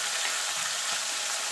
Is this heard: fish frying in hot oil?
yes